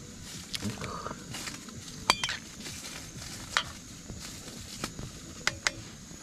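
Cabbage going into borscht in a pot cooking outdoors in a winter forest camp, with soft stirring and sizzling under scattered sharp clinks of a utensil against metal, fairly quiet and close.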